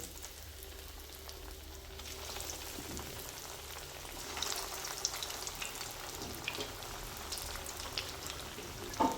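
Fish harabhara kababs frying in hot oil, a steady crackling sizzle with scattered sharper pops that grows a bit busier toward the end, heard alone without talk.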